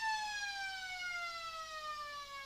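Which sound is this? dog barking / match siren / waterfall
match siren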